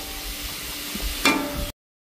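Banana stem fries in a pan with green chilli, nigella seeds, salt and turmeric, a low steady sizzle with a brief louder stirring burst near the end before it cuts off.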